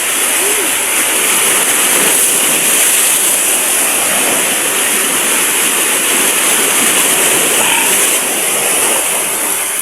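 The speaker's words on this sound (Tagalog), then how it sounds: "Malakas ang ulan dito guys." Heavy typhoon rain pours down in a dense, roaring hiss that stays loud and unbroken throughout, with no clear voices standing out above the downpour.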